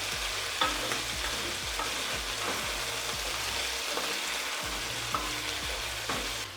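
Beef for Mongolian beef sizzling in a pan, a dense, even frying hiss with a low rhythmic scraping or bubbling pulse underneath, close up and uninterrupted by speech.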